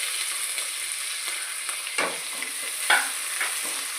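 Onions sautéing in a pan with curry leaves and green chilies: a steady close sizzle broken by a few sharp stirring scrapes, with no talking.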